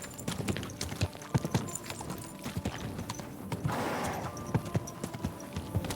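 Horse hooves clopping at an uneven walk in the video game Kingdom Come: Deliverance II, fairly close, with a short burst of rustling noise midway and no talking.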